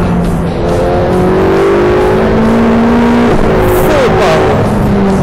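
A Ferrari 488 Pista accelerates hard on a racetrack, its engine note climbing steadily under full power with a brief shift near the end, loud and close throughout with no talk.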